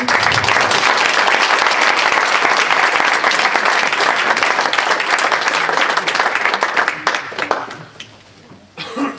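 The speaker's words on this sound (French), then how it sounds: "avec ces applaudissements, on n'a pas entendu" A crowd applauds loudly and continuously at a public address, with a few chuckles and voices mixed in, before the clapping thins out near the end.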